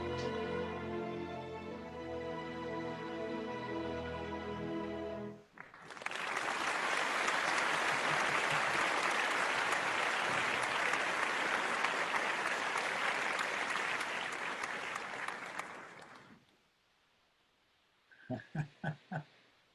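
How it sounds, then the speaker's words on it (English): An audience applauds at a summer creative showcase, a dense, steady burst of clapping lasting about ten seconds after a musical ending, then fading out before a few short sounds. "Applause. We've got it."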